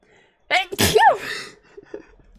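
A single sudden, loud sneeze close by, with a sharp intake and burst, followed by faint murmuring.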